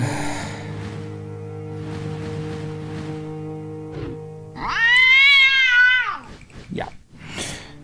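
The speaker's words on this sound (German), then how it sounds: "Ich wollte es bloß nochmal hören, ich mag die Katze so sehr." A loud, drawn-out cat meow in the video game Déraciné rises and falls over steady background music, followed by softer chirpy sounds.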